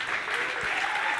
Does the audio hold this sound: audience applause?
yes